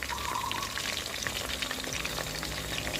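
Marinated pork, cured in fish sauce, frying in hot oil with a steady, dense sizzle and light spattering throughout, close and continuous with no talk.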